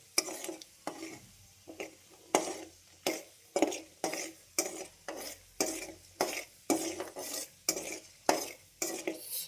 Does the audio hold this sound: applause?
no